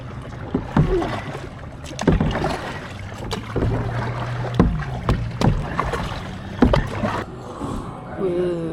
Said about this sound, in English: Only accessible by boat. I'll just paddle back.